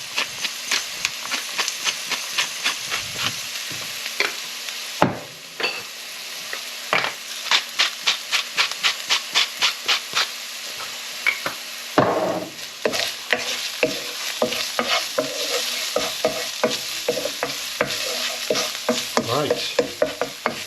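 Pork and kimchi fried rice sizzles in a pan while a utensil stirs and scrapes it in quick, steady strokes, close and loud, with a brief pause and a short spoken word partway through.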